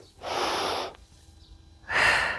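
Two audible breaths, each a deep, airy inhale or exhale lasting about half a second, taken close up while an exercise pose is held, with a short quiet pause between them.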